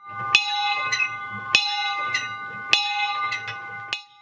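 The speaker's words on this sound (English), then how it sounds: "We also have a peace bell, which we ring on important occasions" A peace bell at a memorial to unknown civilians rings in slow, evenly spaced strikes, each bright clang sustaining a long metallic hum that overlaps the next, heard clearly with no talk.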